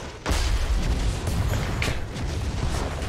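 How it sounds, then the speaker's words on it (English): Cannon fire in the Smite video game: a sudden loud boom followed by a sustained roaring, rumbling blast that lingers for a few seconds, with no talking. "The guy has a cannon?"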